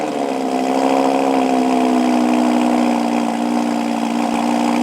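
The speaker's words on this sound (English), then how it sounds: "listening to this quick engine clip" An Audi R8's 5.2-litre V10 runs at a steady idle, a smooth, even mid-pitched drone with layered harmonics, held close and constant for several seconds with no talk.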